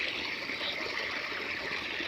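A steady stream of water pours and splashes continuously while watering plants, a soft even hiss with no voices.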